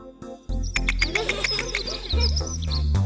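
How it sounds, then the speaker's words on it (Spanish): Bright, rapid bird chirps twitter in quick bursts over a backing music track, fairly loud and close, with no voices. "The bird."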